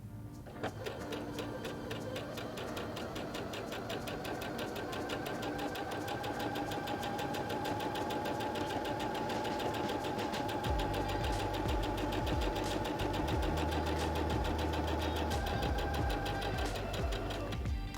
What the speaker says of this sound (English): Step on the foot control to sew forward again.